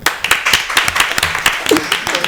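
A burst of hand clapping, fairly close and brisk, with voices talking over it throughout.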